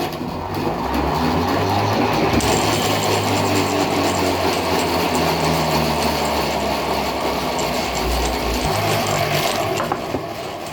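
A honey extractor spins uncapped honey frames in a steady, loud mechanical whir with a faint rattle, running continuously close by with no talking.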